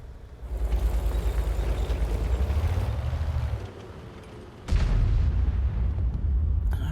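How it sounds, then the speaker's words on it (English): Heavy artillery shell impacts in a World of Tanks-style battle: deep, rumbling booms fill the clip, with a sharp loud blast near the five-second mark followed by sustained low roar. "That was an Arty round going in there"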